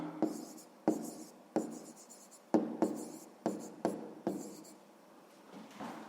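Close, soft pen strokes on paper while writing out a sixth-grade math solution, about nine short scratching bursts each opening with a light tap, in an uneven rhythm with no talk.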